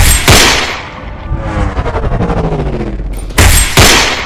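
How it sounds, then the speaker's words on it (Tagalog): Two sharp pistol gunshots crack loudly, one near the start and one near the end, separated by a rattling, echoing stretch in between. "Putok ulit ng baril"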